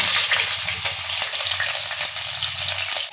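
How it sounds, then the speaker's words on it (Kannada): Garlic, ginger and green chilli frying in a pan of oil with a spoon of ghee, a steady loud sizzle with soft stirring scrapes running throughout, no voices. "ಬೆಳ್ಳುಳ್ಳಿ, ಶುಂಠಿ, ಹಸಿಮೆಣ್ಸಿನ್ಕಾಯಿ ಹಾಕ್ತಾಯಿದ್ದೀನಿ."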